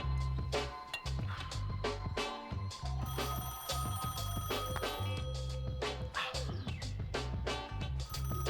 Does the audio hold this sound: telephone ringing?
yes